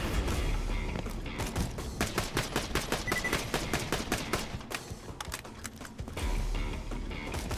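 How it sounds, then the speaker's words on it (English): Rapid bursts of gunfire from enemies in the video game Borderlands 2, dense and continuous across the clip, with sharp repeated shots and automatic fire layered over a constant game soundscape. "Okay, they're shooting at me."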